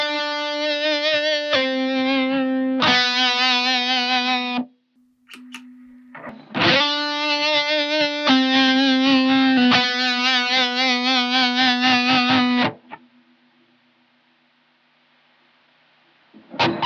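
Electric guitar played through a Blackstar Dept 10 Tube Boost pedal, sustaining long distorted lead notes in several held phrases with brief gaps, loud and alone, ending in a fading tail.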